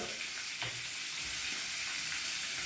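Shrimp sizzle and crackle steadily in a heating pan before being flambéed, a close, continuous frying hiss with a few soft clinks and no talking.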